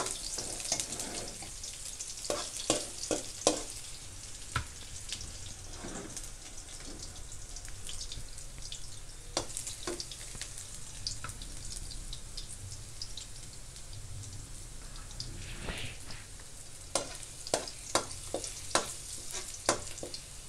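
Garlic fries in a pan for a balatong lunch dish, a continuous soft sizzle broken by sharp crackles and occasional spatula scrapes, no talking.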